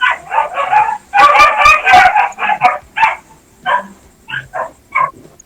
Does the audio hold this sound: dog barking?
yes